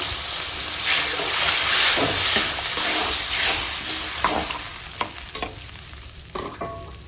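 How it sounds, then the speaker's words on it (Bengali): Water poured with turmeric and chili powder into a pan of frying masala for a fish curry, a loud steady sizzle with stirring scrapes that settles toward the end, no talking. "এখন দিয়ে দেবো জল দেবো হলুদের গুঁড়ো দেবো লঙ্কার গুঁড়ো"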